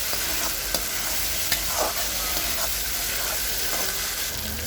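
Pointed gourd, potato and tomato sauté in spices in a pan, giving a constant sizzle with scattered scraping stir strokes and light clicks throughout, with no speech.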